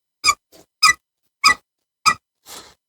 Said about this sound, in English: That's squeaking. The customer had a squeak for about 6 years, and I think that's what it is.